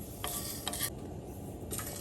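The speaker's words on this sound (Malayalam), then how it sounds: "പാൻ വെച്ചിട്ട് ഈ മസാല എല്ലാം ഒന്ന് വറുത്ത് പൊടിച്ച് എടുക്കാം." Masala spices dry-roasted in a pan for a spinach chicken curry, with short scraping stirs over a steady low background, heard close and without talk.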